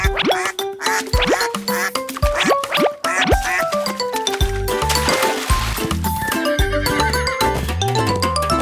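Cartoon foal whinnies in a Korean children's farm animal song, with repeated horse neighs over a bright musical backing; sung vocals and music dominate throughout.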